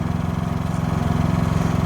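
A Predator 5000 watt dual-fuel generator's small engine runs steadily, putting out a loud, rhythmic low chugging with a fast even pulse and a slight rise in level partway through, heard alone.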